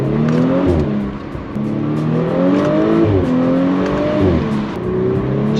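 A B9 Audi S4 pulls hard in second gear, its loud, close engine note climbing steadily through several surges with brief dips between them. No one speaks over it.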